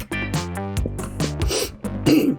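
A close, loud burst of coughing and throat clearing, several rough hacks in quick succession with sharp breaths between them.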